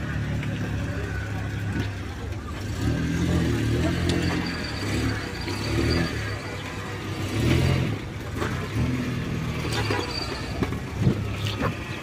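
A car engine idling and moving slowly in reverse at a busy open-air car market in Bishkek, a low steady rumble with light throttle swells, while people talk nearby.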